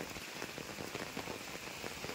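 Steady rain patters on a surface, a constant, even hiss with scattered drops, fairly soft and unbroken throughout.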